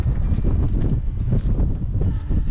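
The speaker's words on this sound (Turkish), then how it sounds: "Bak burada nasıl güzel bir rüzgar var." Wind blowing steadily across a microphone high on a mountain road above 2000 metres, a loud, continuous low buffeting roar with gusty surges and no other clear sounds.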